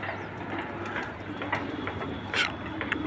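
Domestic pigeons of the red choker type cooing in a home loft, soft repeated low coos over a steady background hum with a few brief sharper calls, no talking.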